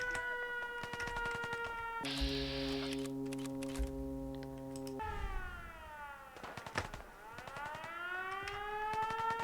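Alarm siren in the video game Fallout, heard as a steady harmonic wail that shifts to a lower buzzing hold, then sweeps down and rises again, with clicking and rattling game noises throughout.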